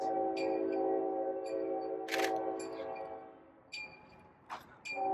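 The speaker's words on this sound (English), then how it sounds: "train's coming" A train rumbles past with a steady low drone and a sustained horn, while sharp camera shutter clicks snap several times over it.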